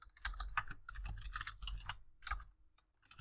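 Quick clicky keystrokes tap on a computer keyboard at close range, a short irregular burst of typing with no voices.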